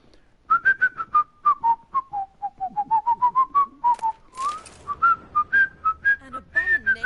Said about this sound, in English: That's Mr. Ed who whistles